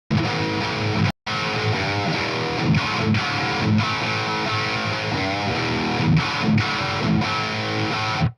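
Heavily distorted electric guitar chugs and rings through a high-gain amp, dense and loud, with a brief cutoff near the start before playing resumes.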